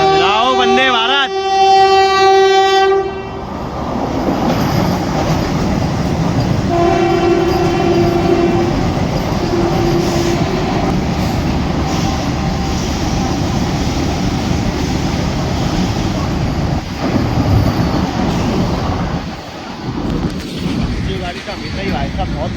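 The Khajuraho Vande Bharat Express rushes past at speed. Loud horn blasts open the clip, then a long, heavy rumble and rattle of carriages follows, with a few shorter horn sounds.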